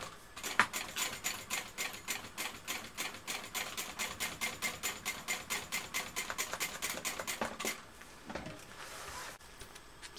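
A sewing machine basting a backpack strap runs in a fast, even rapid-fire clatter for several seconds, then stops and is followed by a few softer handling noises.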